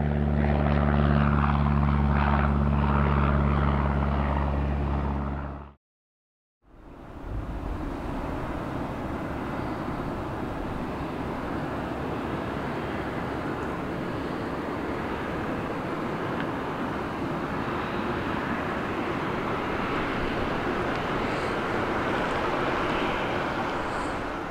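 A general aviation aircraft at Gillespie Field airport in San Diego, California, drones with a steady, loud propeller-engine roar. The sound cuts out briefly near the start, then returns and holds evenly to the end.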